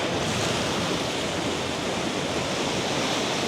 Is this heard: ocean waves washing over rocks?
yes